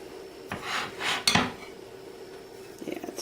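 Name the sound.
spooning crisp topping over blueberry filling in dish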